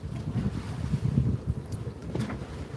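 Sailboat moving slowly under a genoa alone off a Maldives island, with soft wind buffeting and gentle water sloshing against the hull, faint and steady throughout.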